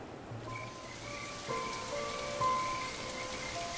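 Steady rain falls across an African wilderness, a continuous hiss of drops striking surfaces with no voices, growing a little heavier partway through.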